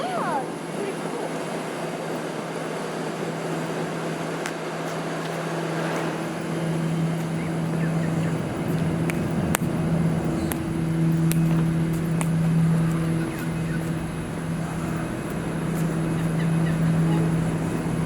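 A flock of birds calls continuously beside the Webb Dock rail line in Melbourne, a dense outdoor chatter with steady background hum and faint talk mixed in.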